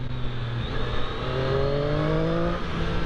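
A 2018 Triumph Street Triple 765 R three-cylinder motorcycle engine revs past 5000 rpm while riding in town, its note climbing steadily in pitch, loud and close, with no talk.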